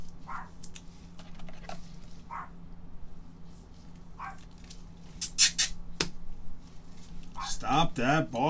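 A dog barks several times in a room while baseball cards are opened, scattered yips and barks that grow louder and more frantic near the end. Someone speaks throughout, and there are some light clicking sounds.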